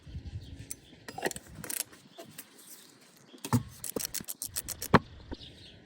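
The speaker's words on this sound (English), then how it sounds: "we're going to loosen up the oil filter." Clicks, clanks and metallic rattles of a tool working loose the oil filter on a BMW F10, F01, F02 or F30 535i during an oil change, coming in scattered bursts with quiet gaps between them.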